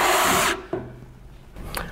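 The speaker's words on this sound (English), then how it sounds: "I'm going to install them to the header first before I install them, screw them into the DSI aluminum column" A power drill drives screws through L brackets into a structural aluminum column. There is a short, loud whirring burst, then a sharp click and quiet room tone.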